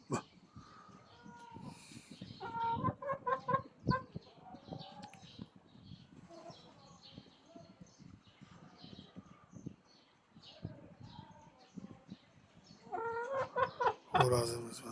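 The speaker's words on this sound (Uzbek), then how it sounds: "Xo'rozimiz mana." A pet rooster in a yard makes scattered clucks and short calls at close range, mixed with other fowl sounds and quiet talk, building to louder bursts near the end.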